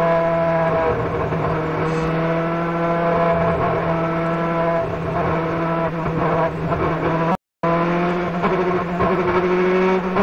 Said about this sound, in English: So maybe we're ready to go racing, Larry.